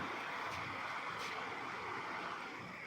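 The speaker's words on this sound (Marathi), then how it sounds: "येतोय का पावसाचा आवाज" Heavy monsoon rain approaching, a steady dense hiss of falling water that fills the whole stretch at even loudness, with no voices over it.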